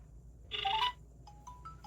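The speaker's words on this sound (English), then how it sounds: "And it's now calling." A DT Watch X smartwatch placing an outgoing Bluetooth call, giving a short, faint electronic ringback tone burst followed by a few soft beeps.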